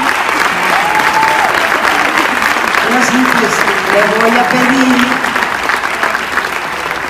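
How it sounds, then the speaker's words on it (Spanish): A loud, dense round of audience applause for Televisa at a show presentation, sustained throughout, with voices calling out and a speaker talking over it. "un aplauso a mi empresa,"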